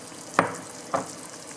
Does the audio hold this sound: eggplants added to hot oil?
yes